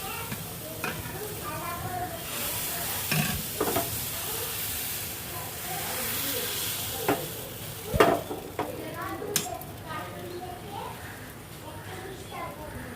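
Gola ruti fries in oil with a soft bubbling sizzle and scraping stir sounds, someone talking over it and children's voices in the background.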